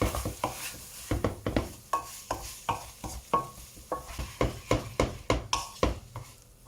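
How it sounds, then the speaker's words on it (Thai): Stir-fried kimchi instant noodles being tossed in a pan after a splash of water, a steady run of quick scraping strokes and soft clacks over a low sizzle, close and rhythmic. "ผมก็จะเติมน้ำลงนิดนึงนะครับ"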